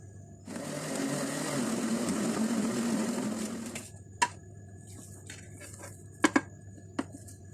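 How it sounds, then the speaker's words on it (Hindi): An electric chopper grinds spiced mutton mince for seekh kebab in one steady, loud whirring burst of about three seconds. It cuts off abruptly, and a few faint clicks and knocks follow. "यहाँ चॉपर के अंदर कीमे को थोड़ा सा इसमें चला लेंगे ताकि कि अच्छी तरह से ग्राइंड हो जाए"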